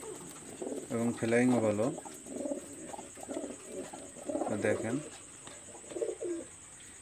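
Lalpari male pigeon and several female pigeons coo in a loft, with repeated throaty rolling coos close by while someone talks over them.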